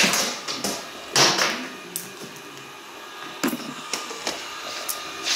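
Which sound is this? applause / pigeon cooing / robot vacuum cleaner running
robot vacuum cleaner running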